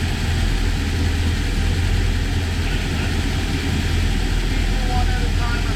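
Twin Volvo engines on a 2003 Chaparral Signature 300 boat running near and loud, a constant deep throbbing drone with a heavy low hum and little change in level.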